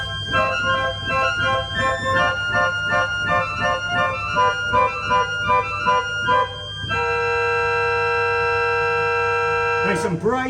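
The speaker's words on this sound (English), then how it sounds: "Next we have a 4-foot principal, well, an octave as it's called here" A 4-foot principal stop, called the octave, on an 1899 J.J. Binns pipe organ sounds bright sustained chords that change in a steady rhythm, then settles into one long held chord before a brief new attack at the end.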